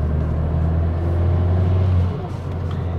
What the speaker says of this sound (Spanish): este es el sonido normal del coche.